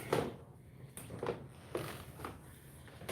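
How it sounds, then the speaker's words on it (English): The old wooden floor of a historic 1779 tavern creaks and squeaks underfoot in faint, irregular bursts roughly every half second to second. "I'm sure that everybody can probably hear the squeaking of the floor"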